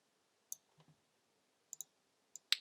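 Sharp computer mouse clicks while editing in Adobe Audition, a handful of isolated close clicks with one paired double click, quiet between them and no speech.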